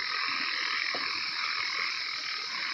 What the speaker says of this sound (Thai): ฟังเสียงกบ